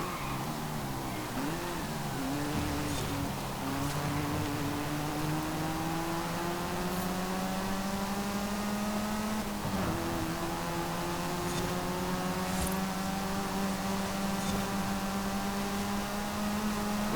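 Turbocharged Hyundai N car engine revving and accelerating in Forza Horizon 5, a rising engine tone climbing through gears with brief dips at shifts, continuous and alone.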